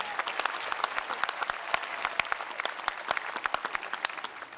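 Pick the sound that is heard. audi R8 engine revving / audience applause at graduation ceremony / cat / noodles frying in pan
audience applause at graduation ceremony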